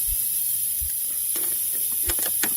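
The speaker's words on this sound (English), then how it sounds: "You need to give it another squirt of penetrating oil" Short bursts of an aerosol can spraying penetrating oil onto a Honda TRX 250 EX ATV axle nut, a few quick hissing squirts over a steady background hiss.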